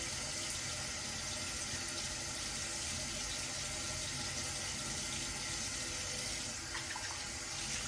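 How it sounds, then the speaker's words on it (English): Cold tap water runs steadily into a sink during a daytime face-washing routine, a continuous close splashing hiss with no voices. "I'm using cold water to wash my face"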